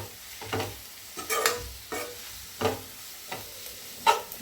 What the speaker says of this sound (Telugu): పచ్చి వాసన పోయే వరకు మనం ఫ్రై చేసుకుందాము